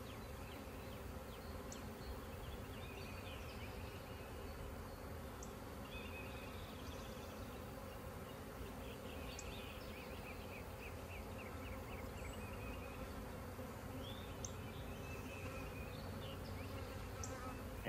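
A calm honeybee swarm being hived gives off a steady, dense buzzing hum, faint and continuous throughout with no voices.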